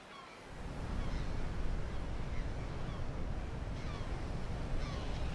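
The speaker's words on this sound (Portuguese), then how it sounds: "Ao longo de todo o litoral rochoso, as ondas estão cada vez mais fortes à medida que a maré se aproxima." Waves break and wash steadily over a rocky southern African shoreline as the tide comes in, a loud, continuous roar of surf and spray that swells just after the start and holds without pause.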